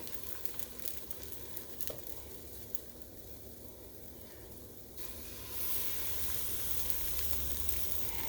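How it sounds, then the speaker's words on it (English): Steady sizzling of banana pancake batter frying in a hot pan, a continuous hiss that grows louder and brighter in the last few seconds. "Now when you're frying pancakes"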